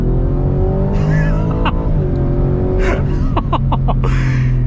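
A 2023 Ford Raptor R truck engine rumbles loudly and revs, with sharp popping bursts from the exhaust near the end.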